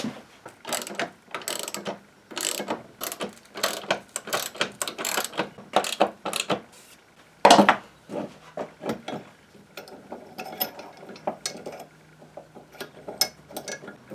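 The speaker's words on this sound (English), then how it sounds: "I'm just going to get a socket and a spanner" A socket ratchet and spanner tighten the 17 mm mounting bolts of a metalworking vice. Bursts of quick ratchet clicks repeat in short strokes with brief pauses, loud and close, and no one speaks.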